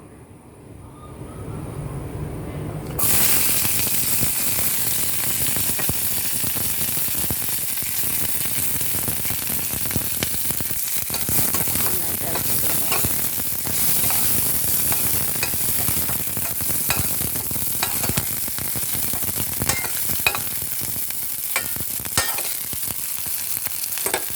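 Shallots, garlic, a green chili and curry leaves drop into hot coconut oil for bitter gourd stir-fry. Quiet at first, then a loud, dense sizzle starts suddenly and crackles steadily for over twenty seconds without talk.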